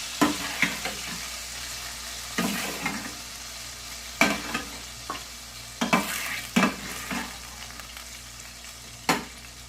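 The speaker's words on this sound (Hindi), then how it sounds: "बिल्कुल हल्का सा फ्राई करना है। अगर ज़्यादा फ्राई करेंगे तो फिर ये जो है सख्त हो जाएगा।" Chicken pieces lightly frying in oil with a soft steady sizzle, broken by repeated scraping stirs of a spoon against the pan at irregular intervals, close and fairly quiet.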